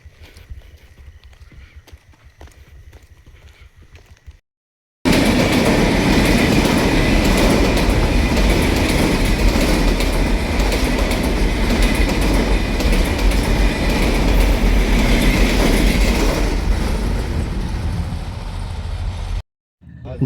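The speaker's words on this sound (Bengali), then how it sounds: "আমাদের ট্রেনের অপেক্ষা, একটু পরে ট্রেন চলে আসবে।" A train arriving at the Joyrampur railway station platform before dawn, with faint ambience giving way to a loud, sustained rumble and rhythmic clatter of rolling wagons for about fifteen seconds.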